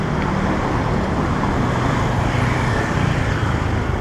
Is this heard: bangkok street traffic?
yes